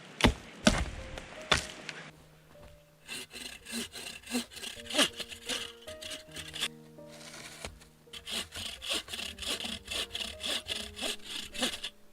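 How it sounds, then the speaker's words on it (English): A hand saw cutting firewood outdoors in a snowy Canadian wilderness camp, quick rhythmic back-and-forth rasping strokes, close and clear, with short pauses between bursts. "I think I got enough firewood cut now"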